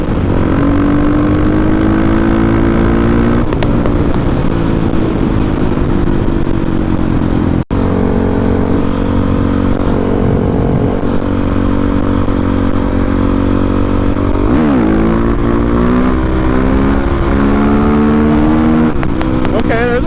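A loud supermoto motorcycle engine revs and climbs through the gears into a fourth-gear wheelie, pitch rising steadily with a brief gap partway, continuous and close throughout.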